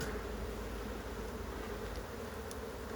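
Dense, steady buzzing of many honey bees swarms around an opened hive, a continuous close drone with no voices.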